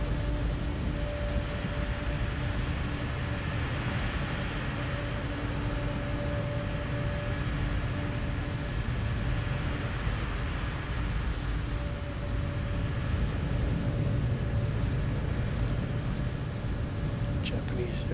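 A Japan Airlines airliner departs in Microsoft Flight Simulator 2024, a steady low engine rumble and broad roar holding evenly throughout, with a voice talking over it.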